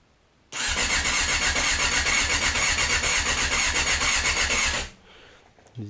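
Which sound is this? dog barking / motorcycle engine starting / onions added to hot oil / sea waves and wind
motorcycle engine starting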